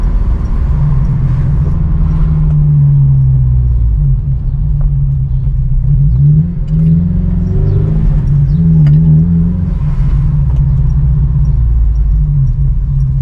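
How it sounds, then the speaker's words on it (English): A 2006 Honda S2000 engine revs and accelerates with a loud, steady low rumble and a rising surge in the middle, close-up, no talk. "Told you, it gets up and goes. There ain't no dead cylinder."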